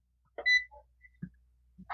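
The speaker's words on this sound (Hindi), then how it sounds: "फ्यूज को चेक करने के लिए बजर मोड पे आपको चेक करना रहेगा।" A multimeter in buzzer mode gives short electronic beeps while checking the 40 amp fuses in a Luminous inverter. The chirps are brief and uneven, with one longer tone, on a quiet bench with no talk.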